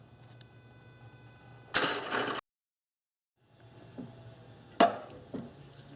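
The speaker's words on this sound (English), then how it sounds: "just crank it for a split second, and it will loosen up that bolt" A Subaru 2.5L EJ25 engine is cranked with the ignition key for a split second to loosen the crank bolt, giving one short, loud mechanical burst, then a brief silence and a sharp clack amid shop noise.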